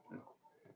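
Pigs on a homestead farm give a couple of short, faint grunting oinks close by, with a brief pause between them.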